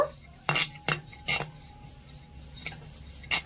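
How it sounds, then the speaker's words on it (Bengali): White sesame seeds dry-roasting in a dry wok while a spatula stirs them, giving a handful of sharp, close metallic scrapes and clinks spaced irregularly over a quiet background, with no talking. "শুকনো কড়াইয়ে আমি নিয়ে নিচ্ছি এক টেবিল চামচের মতন সাদা তিল একদম হালকা করে একটু নেড়ে চেড়ে ভেজে নেব"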